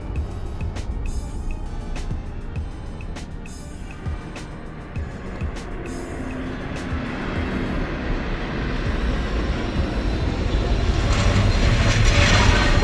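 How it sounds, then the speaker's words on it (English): A train arrives in the video game Daymare: 1994, its low rumble and rattling growing steadily louder and nearer over several seconds, with a few faint clicks early on. "maybe this will just summon the train"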